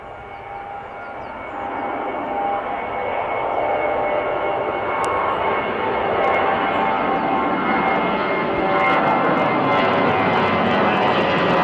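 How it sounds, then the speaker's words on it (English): Jet aircraft passing overhead, a broad roar that swells from a softer start into a loud, sustained rush, with no voices. "those jets that just flew over his head"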